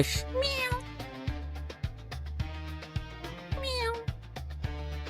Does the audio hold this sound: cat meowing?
yes